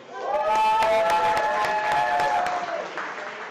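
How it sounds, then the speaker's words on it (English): A crowd at a chef cook-off competition applauds for a few seconds, a dense, steady wash of clapping with a few distinct claps, under a voice that keeps talking. "Big round of applause for Rossi."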